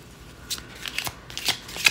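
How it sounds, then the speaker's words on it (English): Tarot cards are shuffled by hand in a series of short, crisp riffling bursts. Several quick ruffles follow one another, close and fairly soft, with no talking over them. "I just started shuffling."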